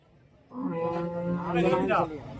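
A single cow at the Orappam cattle market in Krishnagiri, Tamil Nadu, gives one long, close, clear moo that rises and then tails off over about a second and a half.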